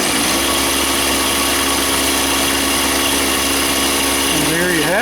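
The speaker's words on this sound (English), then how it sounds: "So I turn the drill press on" Delta drill press running, a steady motor hum with tonal whine throughout at close range, pitch shifting near the end as it changes speed.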